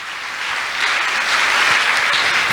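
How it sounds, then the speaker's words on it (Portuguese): A Presbyterian church congregation breaks into applause during a sermon, a dense wash of clapping that builds slightly and holds steady, with no voices over it. "Você pode aplaudir o Senhor por isso?"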